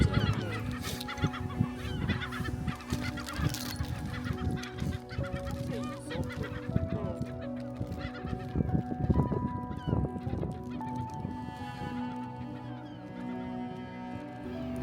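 Skuas and large southern gulls calling in Antarctica, a dense chorus of harsh, honking cries repeating steadily and loudly throughout with no voices.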